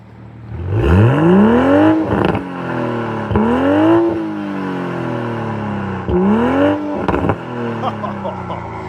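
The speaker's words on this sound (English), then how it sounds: "BMW has dialed that in on a factory exhaust like that" A 2026 BMW Z4 M40i engine revs up sharply several times through its factory exhaust, each rise followed by a falling pitch and an idle, with crackling pops from the exhaust between bursts.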